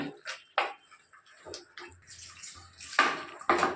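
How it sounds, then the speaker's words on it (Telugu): Water splashes and pours in uneven bursts into a pot of ridge gourd curry, with small clinks and drips between the louder gushes. "ఇప్పుడు దీంట్లో కొంచెం తగినంత వాటర్ పోసుకుందాం మనము."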